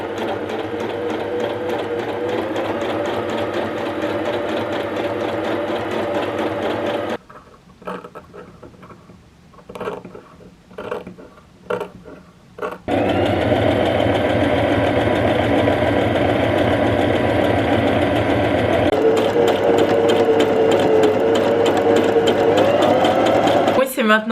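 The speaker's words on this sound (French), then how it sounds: "finir mes coutures au point zigzag" Sewing machine stitching zigzag seams on cottagecore dress fabric, running in long fast whirring bursts with a brief pause of lighter clicks and handling noise between them, while someone talks over it.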